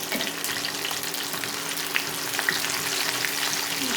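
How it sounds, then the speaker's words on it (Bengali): Whole garlic cloves frying in mustard oil, a steady dense sizzle throughout with a few faint crackles and pops, close and even, no voices. "দিয়ে দেবো কিছু আস্ত রসুন, পাঁচটা শুকনো মতন কেটে নিয়েছি।"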